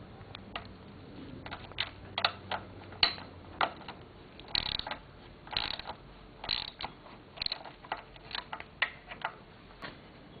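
A wrench loosens the top fork pinch bolt on a Kawasaki KZ650 CSR motorcycle, giving a series of quiet, close ratcheting clicks and metallic creaks in irregular bursts, with no talking.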